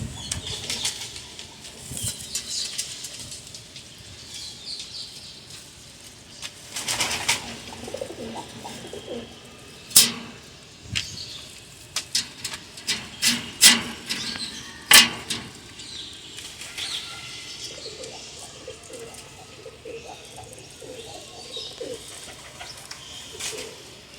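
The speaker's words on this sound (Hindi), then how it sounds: "माशाल्लाह कितने प्यारे कबूतर हैं" Royal teddy pigeons of a Sakhi Bhatti bloodline coo softly in a loft, with bursts of wing flapping and occasional sharp clicks, the cooing close and intermittent over quiet background.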